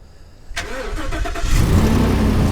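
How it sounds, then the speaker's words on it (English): A vehicle engine cranks and catches, giving a short starter whir that settles into a steady, loud idle rumble. The sound is close and there are no voices. "We're going to go ahead and start up the vehicle."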